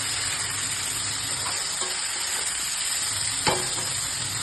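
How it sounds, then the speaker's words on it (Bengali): Cowpeas (lubia) frying with spices in a pan give a steady, close, even sizzle throughout, with one brief clink near the end. "তারপরে লুবিয়াটা দেবো। মশলা দিয়ে ভাজবো"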